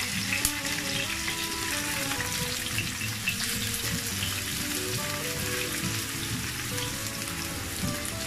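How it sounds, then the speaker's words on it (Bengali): Chopped onions hit about two tablespoons of hot oil in a frying pan for egg noodles, producing a dense, constant close-up sizzle that patters like rain, with no talk. "ফ্রাই প্যানে আমি প্রায় 2 টেবিল চামচের মতো তেল দিয়ে দিয়েছি। এখন আমি দিয়ে দিচ্ছি এর ভিতরে পেঁয়াজ কুচি।"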